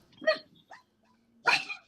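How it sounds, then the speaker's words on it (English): A dog barks in short bursts nearby: two quick yaps, a faint one after them, and a louder double bark at the end, with no talking. "Hello, dog."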